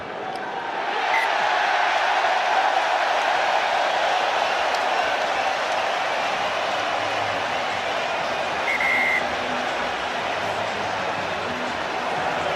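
Large stadium crowd at the 2015 Japan versus South Africa rugby match roars and cheers continuously, a loud sustained wall of voices filling the air with a swell near the end.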